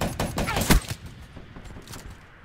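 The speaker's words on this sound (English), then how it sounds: "did I just get shotgun?" Rapid bursts of shotgun fire in a shooter video game, several close loud blasts in the first second followed by fainter scattered shots and game noise.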